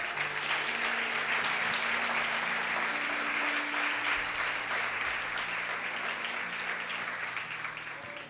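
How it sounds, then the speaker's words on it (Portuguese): A church congregation applauds during a worship service, a steady, dense wash of many hands clapping that carries on for the whole stretch, with a low sustained musical tone humming underneath. "Você pode aplaudir a Jesus?"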